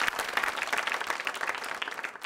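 A studio audience at a television show claps in quick, bright bursts that crowd together into a brisk round of applause, close and moderately loud, with no voices over it.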